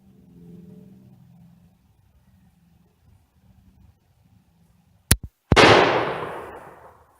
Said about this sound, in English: I'm going to fire at the lowest target on the left-hand side.